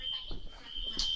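A hotel fire alarm sounds continuously as a steady high-pitched tone with a brief louder chirp, while people talk quietly nearby.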